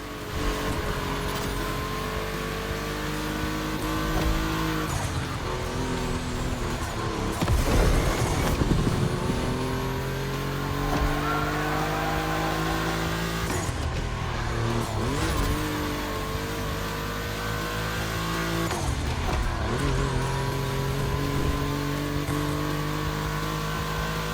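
Volkswagen cars racing on a track in The Crew Motorfest, with loud, high-revving engines. Repeated upshifts and downshifts and revving climbs run throughout, along with bursts of tire squeal and a few close passes.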